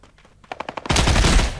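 Gunfire in the mobile shooter Badlanders, with a quick run of rapid shots that swells into a louder, dense burst of automatic fire in a short, close sequence.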